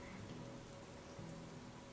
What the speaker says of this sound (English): Hopefully the rain lasts, but it probably won't.